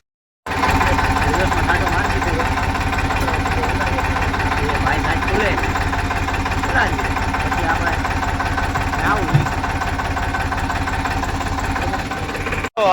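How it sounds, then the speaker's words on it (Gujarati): A tractor engine chugs steadily and loudly nearby during a peanut harvest, a continuous mechanical drone with a rhythmic knock that runs the whole time, voices under it. "ટ્રેક્ટર આવે છે"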